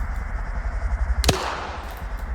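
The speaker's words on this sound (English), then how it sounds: "And if we turn to look at Napalm, the fight continues with explosions going on." One sharp, loud gunshot-like blast cracks out during a PvP tournament match in a military shooter game, over a steady low rumble of battle noise.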